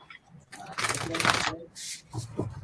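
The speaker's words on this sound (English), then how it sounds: "Oh, these cards are hard to shuffle." Stiff tarot cards being shuffled by hand, giving a couple of brisk riffling bursts up close, with a voice speaking quietly nearby.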